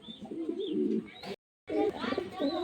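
Racing pigeons coo close by in soft, throaty bursts, with a brief silent gap midway before the cooing resumes.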